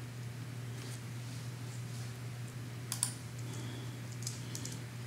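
Brief scattered keystrokes on a computer keyboard while entering a password, faint soft clicks over a steady low electrical hum, with a final sharper tap at the end.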